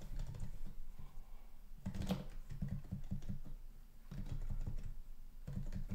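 Fast, steady typing on a computer keyboard, with dense clusters of close, crisp key clicks broken by short pauses and a few louder keystrokes.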